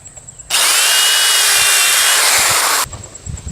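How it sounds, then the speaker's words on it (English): A power drill bores pilot holes into the side of a wooden board for an archery bow rack, one loud, steady whirring run of about two seconds that starts and stops abruptly against a quiet workshop. "I'm going to drill some pilot holes on the side and then screw that board in"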